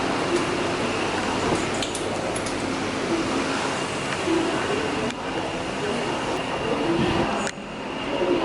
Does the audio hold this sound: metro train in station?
yes